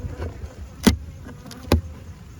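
Honey bees in a hive: a low, faint hum with two sharp knocks against the wooden hive boxes.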